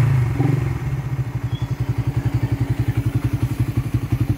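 Raider 150 motorcycle with a stock exhaust pipe, idling then revving in steady rapid pulses. The exhaust note is close and loud, with an uneven burble throughout.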